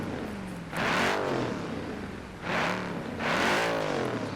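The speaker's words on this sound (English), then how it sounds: "Now we're doing a sound check. Let's go for the Aston first." Aston Martin Vantage V8 engine revved in a sound check: three sharp rising blips with throttle pulled back between them, fairly close and moderately loud, no talking.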